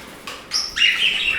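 Budgerigars and parrots chirp in a bird room, several short bright calls in quick succession, close and clear.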